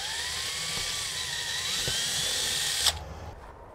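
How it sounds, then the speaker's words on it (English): A power drill whines steadily at high speed boring a small pilot hole in a Winnebago Revel camper van, its pitch wavering slightly, then cuts off abruptly near the end. "I'm going to drill a little pilot hole first"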